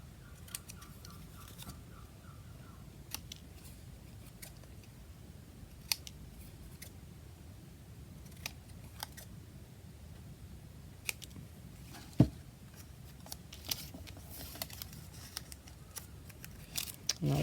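Scissors cutting out paper pieces for a junk journal, a long run of quiet, close snips and crisp clicks spaced irregularly, with light paper rustling in between.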